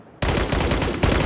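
DP-28 light machine gun firing in the video game Sausage Man: loud, rapid automatic bursts starting abruptly, with a brief dip and a renewed punchy shot near the end.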